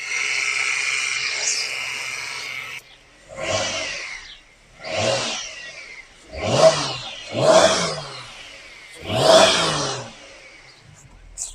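A Ford FG Falcon XR6 six-cylinder engine, once left sitting for a long time, idles briefly and then revs up in five loud, rising bursts with short drops back between them, close to the microphone.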